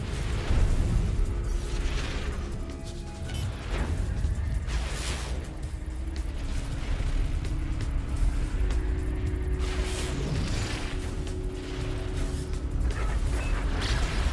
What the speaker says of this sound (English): Incoming torpedoes.